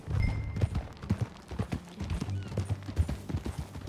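Horse hooves clip-clop steadily in Red Dead Redemption 2, a continuous run of close, fairly loud hoofbeats at a riding pace, with a faint snort or whinny mixed in.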